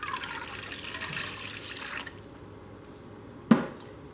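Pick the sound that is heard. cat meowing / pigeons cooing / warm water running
warm water running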